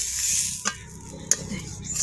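Prawns frying in a wok give a brief sizzle, broken by two sharp scrapes or clinks of a utensil against the pan, close and without talk.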